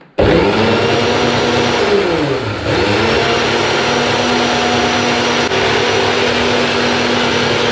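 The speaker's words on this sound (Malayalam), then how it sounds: "ഇനി നമുക്കിത് ബ്ലെൻഡ് ചെയ്തെടുക്കാം." A mixer blender whirs loudly and steadily while blending homemade mayonnaise with oil, its motor pitch dipping briefly under load before holding a constant drone.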